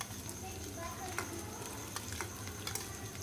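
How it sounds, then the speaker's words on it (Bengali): Chopped onion frying with garlic in a pan, a low steady sizzle with occasional spatula stirs and scrapes close by. "পেঁয়াজ কুচিটা ভেজে নিচ্ছি"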